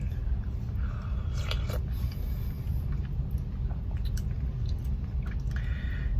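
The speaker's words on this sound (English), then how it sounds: "So I want to taste the mac and cheese." Someone eats watery, soupy mac and cheese from Roy Rogers, with soft wet chewing and squishing bursts up close over a steady low rumble of background noise.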